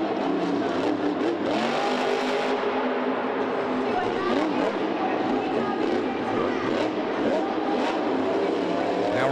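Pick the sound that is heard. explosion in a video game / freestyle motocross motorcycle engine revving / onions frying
freestyle motocross motorcycle engine revving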